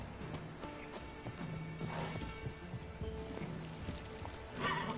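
Roach the horse galloping in The Witcher 3, a quick run of hoofbeats clip-clopping at a steady rhythm with a brief whinny, set over soft game ambience and with no talking.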